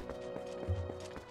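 A horse gallops in The Legend of Zelda: Twilight Princess HD, a soft, quick run of rhythmic hoofbeats heard faintly over a low game hum.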